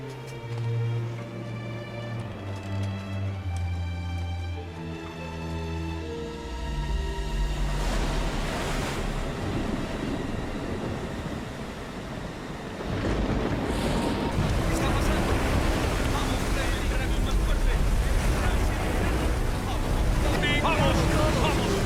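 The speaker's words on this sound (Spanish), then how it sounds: "Perdemos el control del bote en estas olas" A small boat out in ocean waves, with surf and wind sweeping through as a loud, steady wash that builds partway through, laid over music that fades out.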